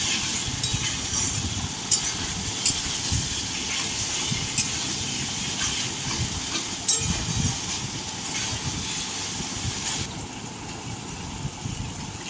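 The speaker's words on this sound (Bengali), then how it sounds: "এবার দিয়ে দিচ্ছি আদা রসুন ও কাঁচা লঙ্কা বাটা দিয়ে ভালো করে নাড়াচাড়া করে নিচ্ছি" Ginger, garlic and green chili paste frying with onions in a pan for mutton curry, a soft steady sizzle with occasional clinks and scrapes of a spoon stirring, close and without talk.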